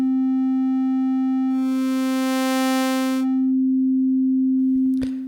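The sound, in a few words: pure sine wave tone with no harmonics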